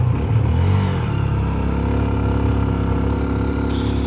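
A motorcycle engine strains in first gear while climbing a steep mountain road, a loud, close, continuous drone with a brief rev-like rise near the start, then a held labouring note.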